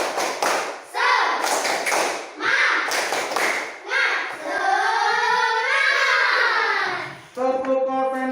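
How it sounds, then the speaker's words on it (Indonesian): A group of children in an Indonesian classroom doing the 'tepuk semangat' rhythmic clap, with repeated loud claps in short bursts separated by chanted voices, then sustained group singing toward the end. "Tepuk semangat."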